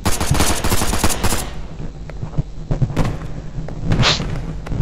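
Tommy gun firing in the multiplayer video game Gorebox: a loud, rapid automatic burst over the first second and a half, then scattered single shots, thuds and a brief whoosh.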